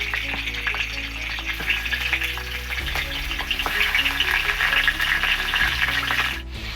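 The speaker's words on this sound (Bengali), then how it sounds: "তেলটা হয়ে গেছে, এতে মাছের মাথাটা দিয়ে দিচ্ছি।" Steady crackling sizzle of fish heads frying in hot oil, loud and continuous, with a low hum running underneath throughout.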